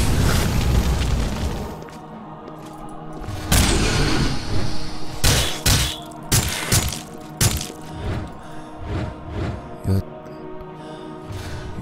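Fiery explosive spell blasts from a Breath of Fire cast in the Oblivion role-playing game, a series of sharp cracks and booming bursts with loud spikes, set against game background sound.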